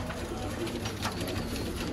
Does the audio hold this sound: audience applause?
no